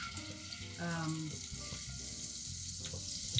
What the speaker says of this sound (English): I'm going to cook a couple shrimps just to give a taste for ornament on top of the soup